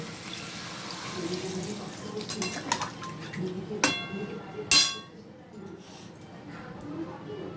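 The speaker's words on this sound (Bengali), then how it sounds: "কষানো হয়ে গেছে, এবার পরিমাণ মতো জল ঢেলে নেব" Water poured into a pan of cooked chicken curry in a home kitchen, a soft running splash with a few clinks of utensils and a sharp clatter near the end, with some talk in the background.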